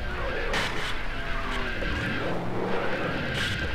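A race car in NASCAR Racing 2003 skids after losing its brakes, tires squealing in wavering, repeated screeches over a constant engine roar.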